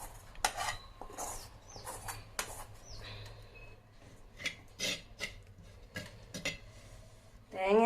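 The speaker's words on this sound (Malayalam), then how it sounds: "നമ്മൾ നമ്മുടെ ചട്ടി തന്നെ അടപ്പത്ത് വെക്കുകയാണ്" Clay and metal cookware clatter and scrape in short bursts, with clinks and a brief knock as a clay pan is set on the stove for a young jackfruit stir-fry; no talking.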